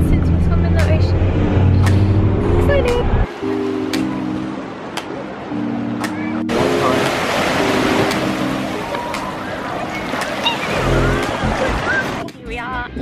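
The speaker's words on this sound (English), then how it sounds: "Here we are at Freshwater Beach." Ocean surf washes at Freshwater Beach in Sydney, a broad hissing roar that swells in the second half, with people talking and low tonal sounds over it.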